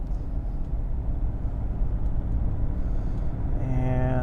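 Jaguar V12 engine pulling in second gear, a low steady drone that builds toward the end as revs climb, heard from inside the car at moderate level.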